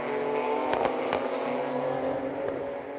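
Ligier race cars racing at the Barcelona circuit, engines droning and shifting as cars pass in quick succession, with a few sharp gear-change cracks against continuous track noise.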